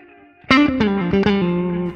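Clean electric guitar played through a Line 6 POD HD500x with analog delay and modulation: three plucked chords in quick succession, each smeared into warm, slightly wavering repeats that sustain to the end, with no talking.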